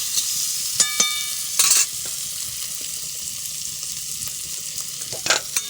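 Chicken frying and sizzling in a pan over a wood- or clay-fired stove, with steady close sizzle and a few sharp scrapes and clatters of stirring, no talk.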